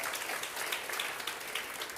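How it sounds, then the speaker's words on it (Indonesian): A church audience gives a round of applause during a sermon, steady clapping that is fairly faint and distant throughout. "Boleh kita berikan tepuk tangan?"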